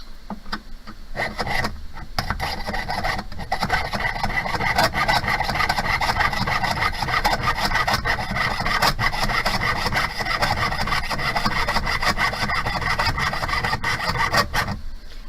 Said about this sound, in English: So when you're sawing, you want to make sure that you're holding on both sides of the V-slot of your bench pin.